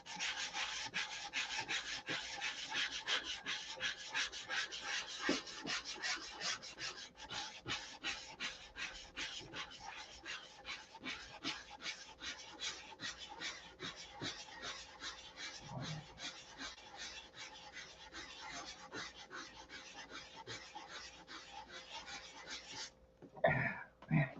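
Sandpaper rubbed by hand over painted rudder surface, a long run of rapid rhythmic rasping strokes, close and steady, continuing for over twenty seconds before a few louder knocks at the end.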